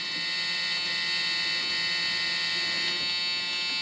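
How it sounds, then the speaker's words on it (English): A warning buzzer drones steadily inside an old Ford Mustang that has sat unmoved for 20 years, a constant electronic tone holding throughout with no voices. "The buzzer's annoying"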